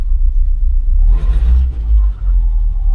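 Talbot Express camper van engine rumbling at idle, then blipped once in a short, loud rev that rises and falls back to a low, steady idle.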